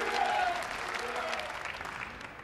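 Crowd applause at the 2009 Weber Cup ten-pin bowling match, a dense continuous clatter of clapping from a large audience, loudest at first and gradually tapering, with some voices mixed in.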